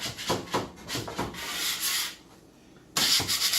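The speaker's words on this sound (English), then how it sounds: "you got a standard normal scraper used for sheetrock or whatever, metal. So you just take it, you kind of scrub everything, get all the urates up." A metal sheetrock scraper scrubs dried snake urates off the floor of a copperhead enclosure: rough, close scraping strokes in quick bursts, a short quieter pause, then a loud renewed scrape.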